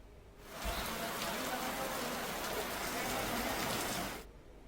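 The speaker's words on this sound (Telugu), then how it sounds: "ఒక్కసారిగా ఆకాశం మేఘామృతమయ్యి భారీ వర్షం కురిసింది" Heavy rain pours down in Hyderabad, a loud, steady hiss of downpour on the ground and roofs that fades in, holds evenly for several seconds and then cuts away.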